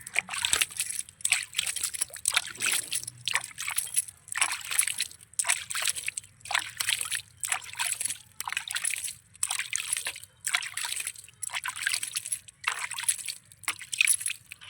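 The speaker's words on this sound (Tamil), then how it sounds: "இதுமாரி நட்டு நீங்கள் தண்ணி தெளிச்சிக்கலாம்." Water sprinkled by hand onto freshly sown eggplant seeds in a garden plot, heard as a long series of short, soft splashing bursts with brief pauses between them, fairly quiet and close.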